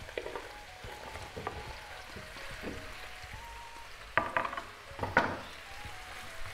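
Potatoes and carrots are added to chicken frying in a pan, a faint low sizzle with soft stirring and a couple of sharper clinks of utensils against the pan.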